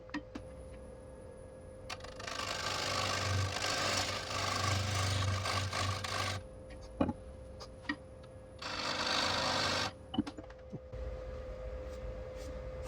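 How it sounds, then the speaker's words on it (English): A beading parting tool is sharpened for woodturning, producing two long stretches of steady close grinding rasp separated by a pause, with a few light ticks and taps in between and after. "now I'm gonna go ahead and put a super sharp edge on this tool here, beading parting tool"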